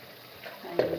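Green beans and carrots dropped into a hot pan for Filipino bihon noodles, a soft hiss that swells into a brief, louder sizzle with stirring partway through.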